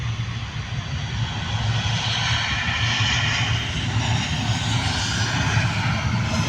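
A Cebu Pacific airplane lands, its engines producing a steady, fairly distant roar with broadband rushing noise throughout, heard alone without talk.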